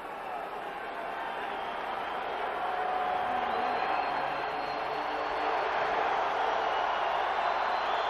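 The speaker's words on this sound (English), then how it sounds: "You never heard a crowd like this rooting for a team that hasn't won a game" A large football crowd fills a stadium at a 1997 Buccaneers at Colts game, cheering in a steady, dense roar that swells slightly midway and holds for the whole stretch.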